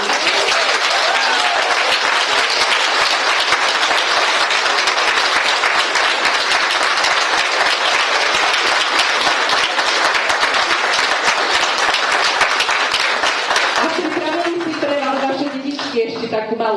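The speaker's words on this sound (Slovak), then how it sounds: "takže si zaslúžia ešte jeden veľký potlesk" A crowd applauds after a children's Mother's Day performance, dense loud clapping sustained throughout before fading near the end as voices take over.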